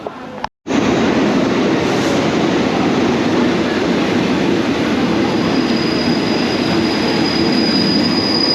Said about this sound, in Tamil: இந்த ட்ரெயின் வந்துட்டு பேங்காக்லேருந்து நக்கோன் சவான் அப்படிங்கிற ஊருக்கு போயிட்டுருக்குங்க